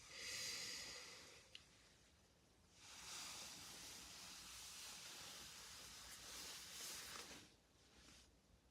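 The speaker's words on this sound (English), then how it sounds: "Inhale it all." A slow, deep inhale during a breathing exercise, heard as close, soft airy rushes of breath with a pause between, no talk.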